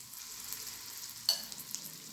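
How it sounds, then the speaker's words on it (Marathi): A potato and semolina mixture is stir-fried in a pan on a low flame, making a soft, faint sizzle with one brief scrape partway through. "सगळं मिश्रण मी त्याच्यामध्ये छान परतून घेणार आहे"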